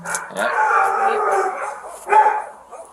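A dog howls and whines nearby, a drawn-out wavering cry with a brief second yelp near the end.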